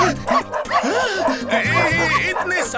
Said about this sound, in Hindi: इतने सारे डॉगीज।